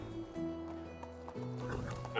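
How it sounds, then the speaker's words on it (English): Horse-like animal sounds from a baby donkey on a farm in the medieval survival game Medieval Dynasty, with hoof clops and a brief whinny under music and game ambience. "Oh, is that a baby donkey?"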